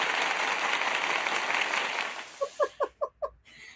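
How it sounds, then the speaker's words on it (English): Audience applause at a Zombiethon finale: a dense, steady wash of clapping that fades out, followed by about five separate, evenly spaced hand claps close by. "So I think everybody needs professional applause."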